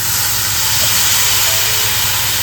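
Dried fish dropped into hot oil tempering with spices and turmeric in a Mumbai chawl kitchen, giving a steady, loud, broadband sizzle and hiss that runs unbroken throughout, with no talking.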